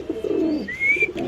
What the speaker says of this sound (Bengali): এখানে আছে এক জোড়া কবুতর মাশাআল্লাহ দেখতে পাচ্ছেন।